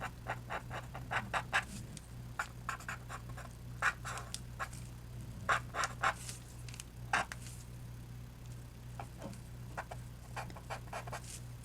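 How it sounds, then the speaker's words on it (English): Soft scratchy rubbing of a paper tortillon blending stump over a pencil drawing on paper, a portrait being shaded, coming in short repeated bursts of strokes with pauses between, close and quiet over a low steady hum. "Using my tortillon blender."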